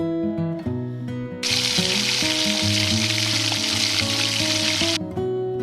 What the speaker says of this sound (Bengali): কড়াইতে একটু তেল গরম করে তার মধ্যে কাঁকড়াগুলোকে ছেড়ে দেবো